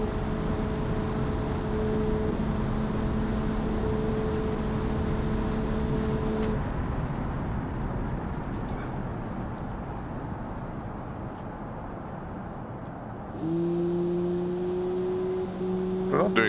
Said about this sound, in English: Lots of wind noise.